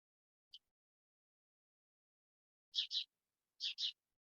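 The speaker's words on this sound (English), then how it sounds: "birds chirping." Several short, sharp bird chirps, one single and then two quick pairs, ring out against near silence, sounding clear but somewhat distant.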